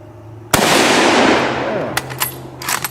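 A sniper rifle shot rings out at targets, a single sharp crack followed by a long decaying echo, then a few faint clicks and knocks.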